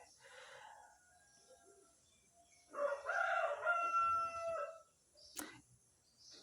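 A rooster crows once, a single drawn-out call rising then trailing off at moderate distance against quiet surroundings, with softer faint calls before and after it.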